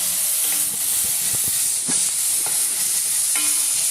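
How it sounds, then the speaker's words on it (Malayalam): Chopped potatoes going into a pan for a Kerala-style Tripunithura chicken curry, a steady loud sizzle and hiss with a few soft knocks and stirring scrapes, close and continuous. "നമുക്കിനി അരിഞ്ഞ് വെച്ച ഉരുളക്കിഴങ്ങ് അതും ഇതിലേക്ക് ഇടാൻ പോവാണ്."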